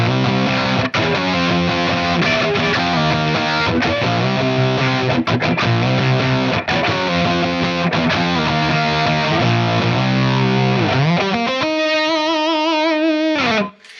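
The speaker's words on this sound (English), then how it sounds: "Now, to exaggerate this, I'm going to be using a model of a fuzz pedal." Electric guitar played through a ToneX model of a fuzz pedal, loud and heavily distorted chords ringing continuously, ending on a sustained fuzzy note with a brief high squeal before cutting off.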